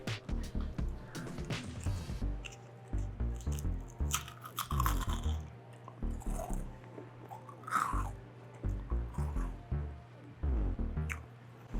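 Loud, close crunching as a crisp homemade cheese cracker is bitten and chewed, repeated crunchy bursts in an uneven rhythm with brief pauses between.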